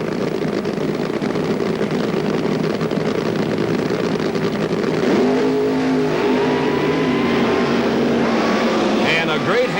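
1977 funny car drag racers, including a Monza, rumbling and revving at close range as they inch into the staging beams, a steady loud engine roar with rising tones late on, under continuous commentary.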